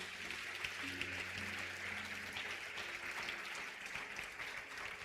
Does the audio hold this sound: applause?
yes